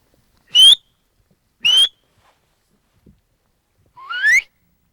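Three sharp rising whistles from a herder ring out in open Siberian steppe, the last one longer and sweeping upward, with quiet gaps between them.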